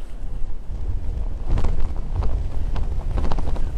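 Strong wind buffets the microphone outdoors, a loud continuous roar with gusts swelling and falling throughout, and no voices.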